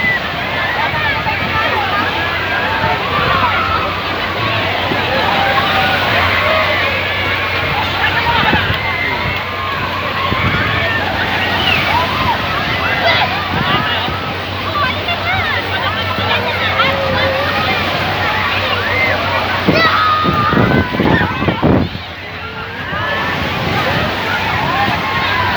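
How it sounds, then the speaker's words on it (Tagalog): Waves collide in the middle of a wave pool at Silver Concha in Bayambang, a dense loud wash of sloshing water and surf under steady talking and crowd voices. "dito yung gitna nagsasalbong kaya talagang ramdam yung alon din dito"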